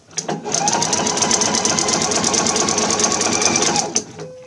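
A sewing machine stitching a sleeve into a knit garment, a fast steady mechanical chatter running close and loud for about four seconds before stopping.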